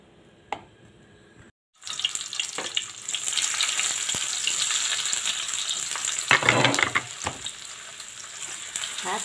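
Hotdogs frying in a pan for a budget breakfast, giving a steady close sizzle that starts after a short silent gap and swells with a brief louder burst partway through, with no talk.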